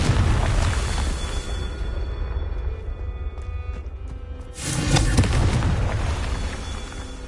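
Confringo fire-blast spell in the Hogwarts Legacy video game: a loud, dense explosive burst swelling around the midpoint over a continuous roar of game sound, with crackling bangs and no speech.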